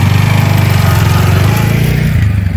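A loud, close motorcycle engine running with a steady throbbing idle, its pitch dipping slightly near the end.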